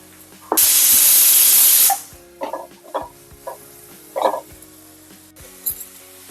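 Garlic paste hits a pan of frying spring onion with a loud, sustained hiss, which then settles into softer sizzling broken by scraping and stirring clinks.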